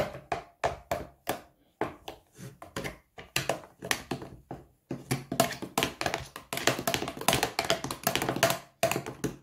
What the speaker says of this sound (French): Je prends une cuillère pour mélanger un petit peu le tout.